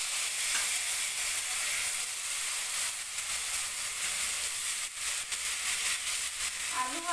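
Potatoes fried in hot oil with mustard seeds and turmeric give a steady, loud sizzle and hiss that carries on unbroken with no voices.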